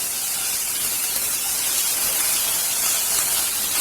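Garlic, green chili and a half teaspoon of turmeric sizzling in hot oil, a loud, even, close hiss that holds steady throughout without voices.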